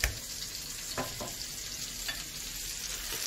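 Garlic and fresh green thyme sizzle in butter in a pan, a steady close frying hiss with a few soft stirring knocks and no voices.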